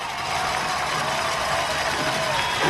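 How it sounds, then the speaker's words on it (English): A high school football crowd at Liberty Hill cheers in a dense, sustained roar that swells slightly toward the end. "Listen to this crowd."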